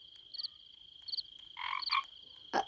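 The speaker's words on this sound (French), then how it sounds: "Ah, une grenouille." A frog in a Roblox camping game croaks in a few short bursts, close and clear over a steady high-pitched tone and otherwise quiet background.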